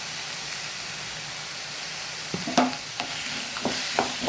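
A ridge gourd and moong dal stir-fry being stirred in a pan: a low steady sizzle, then a few sharp spatula scrapes and knocks against the pan in the final seconds, with no talking.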